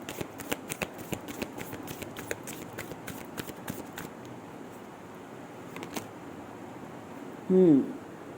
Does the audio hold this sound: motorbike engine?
no